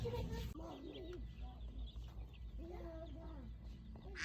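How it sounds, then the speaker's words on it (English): Baby chickens for sale at a Rural King farm store in Spring Hill, Florida cheep and cluck in a busy, overlapping chorus, close and continuous, with store background noise underneath. "Little baby chicken."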